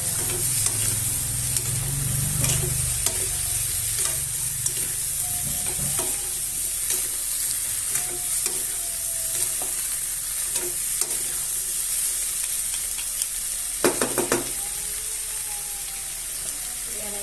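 Onion frying in a pan sizzles steadily and loudly throughout, with intermittent scraping stirs and a few clatters of the utensil against the pan; no speech.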